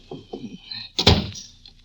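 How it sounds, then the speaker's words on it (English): A door opens and closes in an old radio suspense drama, with a few soft knocks or steps leading to one firm wooden thunk, fairly close. "Oh, yes, the door."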